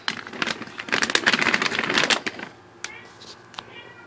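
Cats active late at night around midnight: a burst of dense scuffling and rustling gives way to quieter moments broken by two faint, brief chirping meow-like calls.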